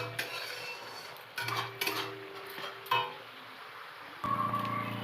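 A utensil scrapes and clinks against a pan while fried onions are sautéed for a prawn malai curry, with several distinct stirring bursts over a low background sizzle and no speech.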